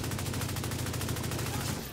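Big Horn exotic assault rifle in The Division 2 firing one sustained rapid automatic burst, dense rhythmic shots hammering evenly for about two seconds before cutting off, loud and close.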